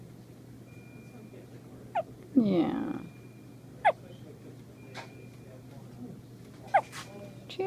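A newborn girl in a hospital, attached to tubes and an IV, hiccups in short sharp bursts spaced a couple of seconds apart, close and fairly quiet, with a brief adult word in between.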